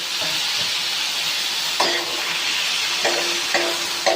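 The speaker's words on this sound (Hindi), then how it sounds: "चिकन को वाइट होने तक चिकन को यूं ही इसके ऊपर भूनना है" Chicken tikka boti pieces frying on a hot tawa, a loud continuous sizzle and hiss with a few sharper bursts as the meat is turned and stirred.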